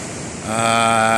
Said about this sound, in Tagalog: Ito po yung dagat ngayon dito sa tabing. Malakas pa rin yung alon.